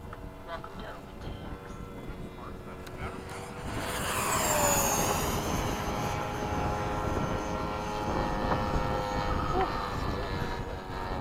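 An F-5 fighter jet makes a low pass under cloudy skies, its engine roar swelling loudly around the midpoint and sustaining as it passes, with people talking faintly underneath.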